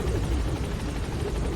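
The Pequod helicopter in Metal Gear Solid V drones with a steady, dense rotor roar, close and constant throughout the short stretch, with no voices over it.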